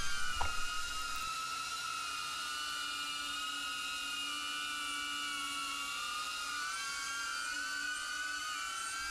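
A DJI Avata FPV drone hovers close to a rose bush, its propellers giving off a constant high-pitched whine and buzz that holds steady and loud throughout, with a brief knock at the start.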